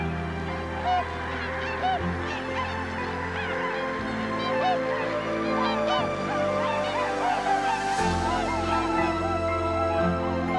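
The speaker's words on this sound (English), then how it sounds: "November, flocks of swans migrate here from Siberia." A flock of migrating swans in Akita, Japan, calling with loud, overlapping honks, continuous and close, a dense chorus of many birds with no talk.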